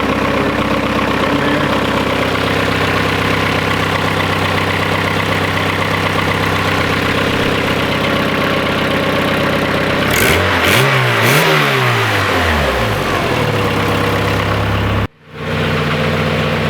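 A Honda B-series car engine runs just after a hybrid shifter install. It holds a loud, steady idle, revs briefly once near the middle, then settles back to idle, close up and with no talk.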